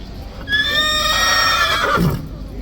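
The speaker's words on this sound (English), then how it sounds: "It's a 17 hands horse, this one." A large horse neighs loudly and close at Horse Guards in London, one long shrill whinny trailing into a snort, over a low street background.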